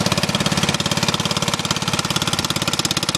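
A smoking tractor engine runs with no muffler, giving a loud, close, raw exhaust chatter with a fast, steady pulsing beat.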